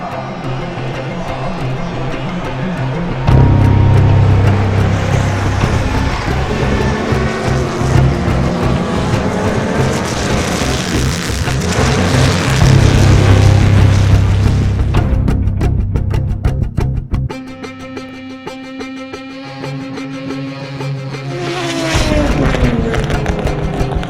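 Corvette race cars starting a race, with loud, layered engine roars building and surging as a pack accelerates, then easing into a quieter stretch before another engine swell rises near the end.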